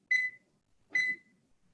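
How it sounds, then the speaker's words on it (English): A kitchen timer being set while a pot boils gives two short electronic beeps, each bright and ringing, spaced under a second apart in a quiet room. "I'm going to set my timer"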